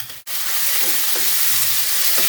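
Chopped tomato drops into a pan of onions and garlic already frying for a vegetarian mutton varuval, raising a loud, steady sizzle that runs on after a brief dip at the start, with faint stirring scrapes.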